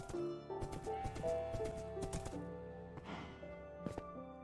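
Horse hooves clip-clop steadily in Minecraft on a survival server, a fast in-game horse moving over a bed of game music, with a few louder hoof hits standing out near the end.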